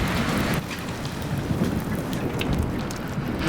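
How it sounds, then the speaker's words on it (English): Steady heavy rain with low rumbling thunder in a storm scene from the video game Life is Strange, a dense continuous wash of downpour close by with a deeper roll underneath throughout. "No more storms."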